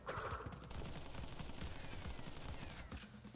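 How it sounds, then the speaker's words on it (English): Sustained rapid machine gun fire from a boss fight in the Crash Bandicoot N. Sane Trilogy, dense bursts rattling on and on with no talk over them. "he always manages to hit me with his machine gun"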